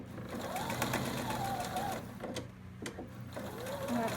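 Close up, a sewing machine stitches fabric in a rapid mechanical rattle, pausing briefly near the middle and then resuming, with a voice talking faintly over it.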